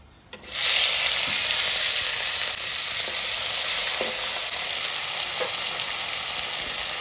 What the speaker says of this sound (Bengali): চিংড়ি মাছ ভাজা হয়ে গেছে, এবার একটু জল দিয়ে দেবো।